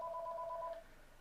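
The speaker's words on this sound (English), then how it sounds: "Sorry about that. That's my phone." A mobile phone gives a brief two-tone notification beep, faint and lasting well under a second.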